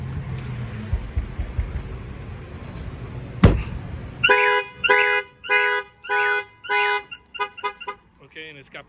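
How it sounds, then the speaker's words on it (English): A sharp thud on a 2020 Ford Transit van window sets off its shock-sensor alarm, a repeated rising-falling electronic chirp in regular bursts, loud and close, with brief speech early on. "in case somebody breaks a window, the alarm will trigger"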